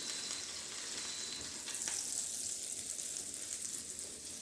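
A burger sizzles on a Pampered Chef grill and griddle, a continuous bright crackle held at steady volume throughout, with no voices.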